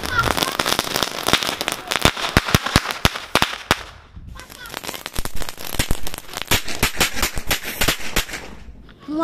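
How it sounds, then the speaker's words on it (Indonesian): Superman brand firecrackers burst in a rapid string of sharp, loud cracks and pops, close by, with a brief lull before a second crackling volley. "Guys, ini mercon Superman."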